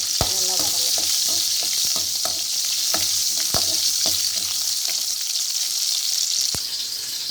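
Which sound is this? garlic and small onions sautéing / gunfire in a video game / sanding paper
garlic and small onions sautéing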